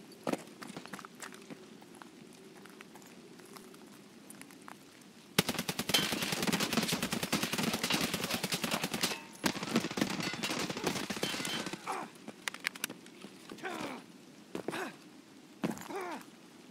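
Bursts of gunfire in Escape From Tarkov: a quiet stretch gives way to sustained rapid shooting for several seconds, then scattered sharp shots trail off, fairly loud and close.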